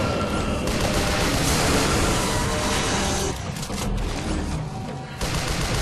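Dense, continuous gunfire in the video game Shadows of the Damned, a loud sustained fusillade of rapid shots with booming impacts that briefly thins out before resuming.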